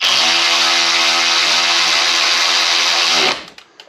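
A power tool tightens the front wheel on a motorcycle during a KOMOTO M1100 front tire installation: a loud, steady high-pitched whir runs for about three seconds, then cuts off abruptly into quiet.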